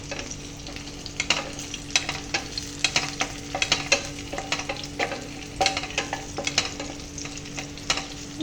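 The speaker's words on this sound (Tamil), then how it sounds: "இப்போ நம்ம வந்து க்ரீன் சில்லி போட்டாச்சு. நல்லா இப்படி வதக்கணும்." Green chillies are sautéed in an oiled pan, a constant close sizzle broken by frequent scraping strokes of a spatula stirring against the pan.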